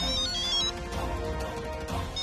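A mobile phone ringtone plays steadily and fairly loud from start to finish, a sustained tonal melody in an indoor domestic scene.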